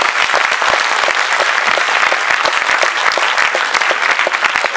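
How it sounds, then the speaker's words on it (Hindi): An audience at a foundation day and award ceremony claps steadily and loudly, dense applause filling the whole stretch without pause. "आप लोग स्वयं के लिए ताली बजाइए"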